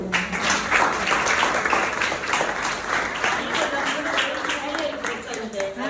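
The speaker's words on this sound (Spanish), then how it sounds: "Vamos a brindarle un aplauso." An audience applauds after a chiropractic health talk, dense and fairly loud clapping from many people that holds steady throughout, with some voices mixed faintly underneath.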